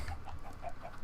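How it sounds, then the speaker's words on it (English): Chickens on a farm in a video game give repeated soft clucks at a steady, fairly quiet level, with no talk over them. "A chicken farm here."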